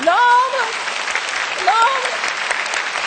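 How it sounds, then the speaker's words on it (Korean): A church congregation at a Korean worship service claps loudly and continuously, with a couple of rising vocal whoops or cheers standing out above the applause near the start and again midway. "박수 한번 쳐주세요"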